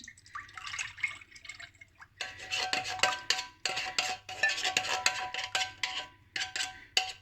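Liquid pours into a cooking pot while black rice biko is being made, giving a steady splashing and trickling stream with uneven surges and drips, close and fairly loud, with no talk over it.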